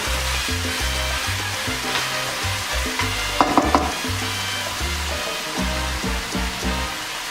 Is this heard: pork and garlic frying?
yes